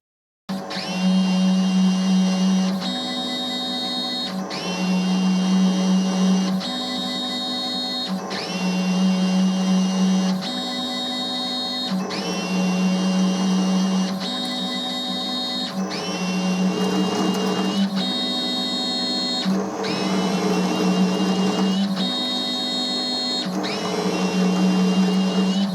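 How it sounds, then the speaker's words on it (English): A Boxford metal lathe cutting a thread with a makeshift threading tool: a loud steady motor whine with layered tonal hums, broken by repeated cyclic shifts every few seconds as the carriage feeds and returns. "I really need a left-hand threading tool for this machine, but I haven't got one, so this will have to do"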